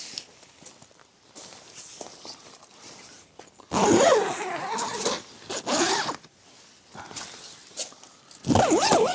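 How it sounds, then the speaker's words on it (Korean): Zippers on a TPU camping tent are pulled closed in several quick, rasping runs, close and fairly loud, separated by rustling fabric and handling noises while packing up camp gear in strong wind. "이거를 다 이렇게 지퍼를 잠궈 놔야지 접을 때 좀 편합니다"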